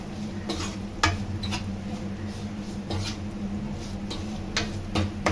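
A ground spice masala sizzles gently in a pan for a South Indian kuzhambu while a spoon stirs it. Soft scraping strokes land at irregular intervals over a steady low sizzle, close and fairly quiet.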